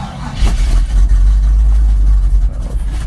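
A Chevy K10 pickup or XJ Jeep Cherokee engine runs loud and close just after a cold start, a deep steady rumble with a brief rev near the start and a slight dip toward the end.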